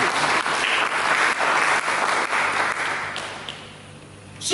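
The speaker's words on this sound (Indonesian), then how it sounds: "Karena itu kita berikan tepuk tangan buat Allah." A church congregation claps during a Sunday sermon: a dense, loud burst of applause that holds steady, then thins and fades away near the end.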